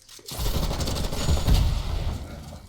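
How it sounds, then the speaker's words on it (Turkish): Rapid automatic gunfire from a Fortnite match bursts in after a brief quiet start and rattles on densely and loudly, peaking midway. "Adam üstümü vuruyor"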